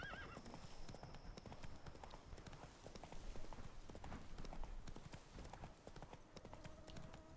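Ridden horse in a game, hooves clip-clopping in a continuous quick rhythm, faint and somewhat distant, with a brief whinny and a voice speaking near the start.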